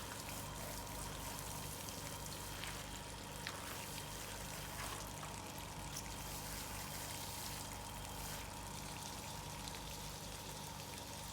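Water seeps and trickles steadily through the soil of a Japanese maple bonsai pot, a faint, continuous drizzle with occasional soft drips.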